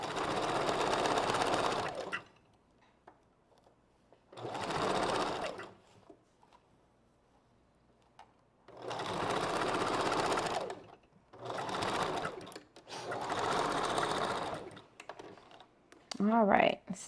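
A sewing machine back stitches hair onto a wig in five separate bursts of rapid mechanical stitching, with quiet pauses between them and a brief faint voice near the end.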